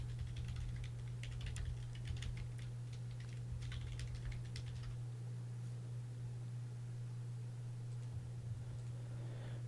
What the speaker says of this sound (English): Here, I just need to type in my username and password,